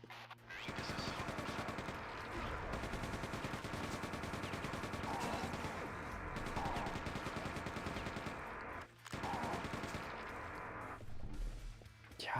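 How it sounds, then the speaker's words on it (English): A Quake 2 machine gun fires rapid sustained bursts, loud and close, with two brief pauses between the long strings of shots. "Machine gun."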